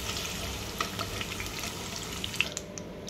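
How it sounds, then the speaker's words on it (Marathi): 200 grams of paneer frying in a pan for restaurant-style kaju paneer masala, producing a steady close sizzle with a few faint clinks. "आपलं पनीर फ्राय झालं आहे, याला काढून घेऊया।"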